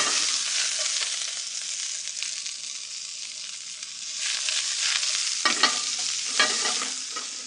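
Sliced onions fry in a pan for Indian cooking, a steady bright sizzle running throughout with a few louder scraping stirs near the end, close and alone.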